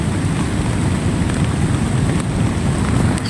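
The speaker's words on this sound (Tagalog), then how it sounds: "Maulan talaga." Steady heavy rain pouring down on a camping tent, a dense continuous hiss with no talking.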